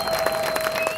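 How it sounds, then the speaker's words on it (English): Conference audience in a hotel ballroom breaking into applause, a brief burst of dense, steady clapping from many hands with a faint tone running underneath. "Please give their staff and their management a huge round of applause."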